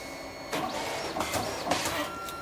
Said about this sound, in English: Very high quality print that we get out of the machine.